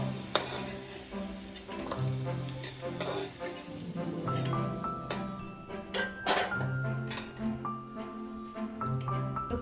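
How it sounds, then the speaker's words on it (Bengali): Fried potatoes lifted out of a pan of hot oil, with a steady sizzle under scraping and clinking of a utensil against the pan, close and moderately loud, over a faint tonal background. "এবার আমি আলুটাকে তুলে নেব।"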